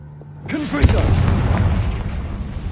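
A Confringo blasting spell goes off in the Hogwarts Legacy video game: a sudden loud boom followed by a sustained, rumbling burst that lingers and slowly fades.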